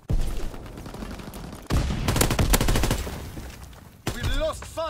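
Bursts of video game gunfire, a rapid fusillade of shots in two loud clusters with a short pause between, and a radio-style voice chirp at the end.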